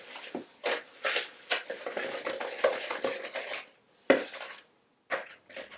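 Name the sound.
mixing eggs into butter and sugar in a bowl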